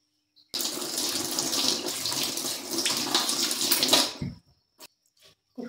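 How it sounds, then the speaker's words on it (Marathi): Potatoes rinsed under a running kitchen tap: a steady, close rush of water splashing for about three and a half seconds, then cutting off, followed by a few faint drips and small knocks in near silence. "इथे बटाटा खाली धुवून घेऊया."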